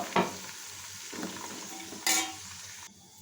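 Sliced onions and green chillies fry over a low flame in a pan, giving a steady soft sizzle with a few sharp clinks and stirring scrapes from a utensil, and no voices.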